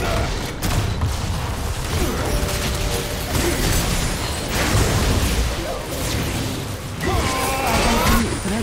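Gangplank's powder keg barrels explode in League of Legends, heavy booming bursts and crackling blasts amid constant game effects and announcer voices.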